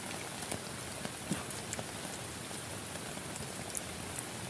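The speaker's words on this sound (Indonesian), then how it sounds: "Di luar lebat oleh hujan teman-teman." Heavy rain pours down in a forest during a camping trip, a steady close hiss of drops on surfaces with occasional sharper patters, no voices.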